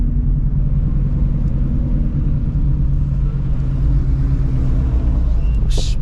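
A Shelby GT350R rolls slowly through a parking lot in first gear, its engine a loud, steady low rumble heard from the cabin with a brief higher rattle near the end.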